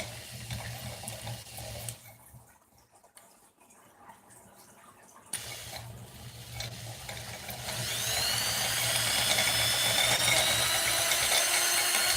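A power drill with a magnet on the end whirs steadily with a high spinning whine that rises and grows louder toward the end, with a brief drop in the middle.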